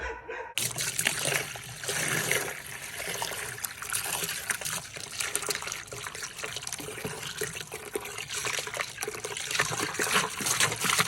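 Water runs steadily into and over an old plastic garbage can being rinsed out as a bucket, a continuous close splashing wash with no talk.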